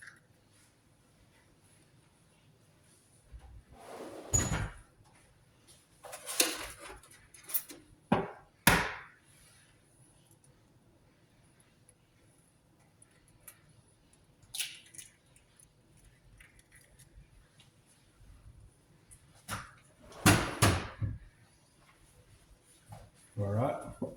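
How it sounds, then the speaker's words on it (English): A couple of large eggs are cracked for French toast, giving a few sharp knocks and wet squishes spread apart by quiet gaps. "Crack a couple of large eggs here"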